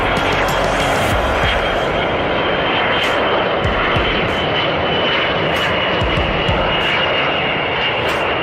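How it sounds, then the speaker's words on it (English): Loud, steady roar of an Airbus A350 taking off on only one working engine in a simulated engine-failure test, a dense continuous rumble with rushing noise throughout, no talking. "This Airbus A350 struggling to take off as it only has one functioning engine"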